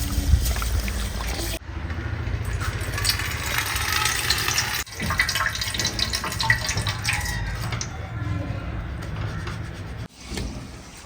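Sesame seeds are washed in a bowl of water and stirred by hand, producing continuous sloshing and swishing with brief pauses between strokes.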